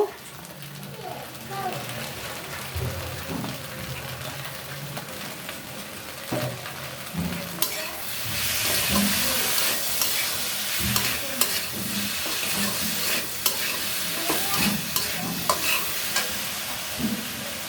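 Okra frying in a pan with a large amount of mustard paste, stirred with repeated scraping strokes over a steady crackling sizzle that grows louder and busier partway through, with a voice talking at times.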